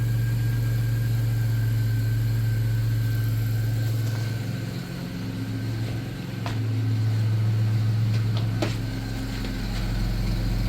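An AWD Chrysler Town & Country engine idles steadily at close range through a muffler, a low, even hum with a slight dip in level midway.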